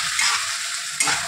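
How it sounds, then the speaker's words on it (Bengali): Small shrimp seasoned with turmeric fry in a pan with a loud, dense, steady sizzle. Close and continuous, it carries a faint stir or clink near the end, with no voices. "এবারে চিংড়ি মাছটাকে আমি ভেজে নেব।"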